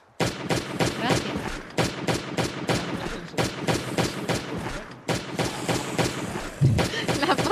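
Rapid bursts of gunfire in the survival video game Last Day on Earth: Survival, loud close shots in quick repeated volleys, with someone talking over them.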